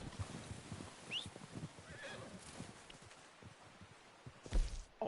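Horse in Red Dead Redemption 2 neighing with a short whinny near the start and a louder snort and whinny near the end, over a steady outdoor ambience and scattered clip-clopping hooves.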